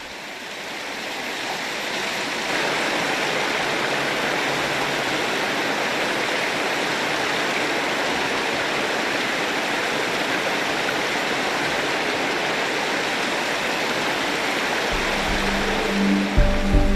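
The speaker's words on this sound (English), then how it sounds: "a mountain stream is a welcome opportunity for Hideki to enjoy some of Tasmania's" A Tasmanian mountain stream rushes steadily, a dense broadband wash of flowing water that holds close and loud for the whole stretch with no voices over it.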